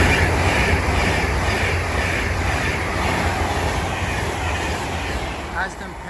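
An Avanti West Coast Pendolino, class 390, runs from London Euston to Manchester Piccadilly on the West Coast Main Line at Watford Junction, giving a steady loud rumble and wind-like roar throughout with a faint voice underneath.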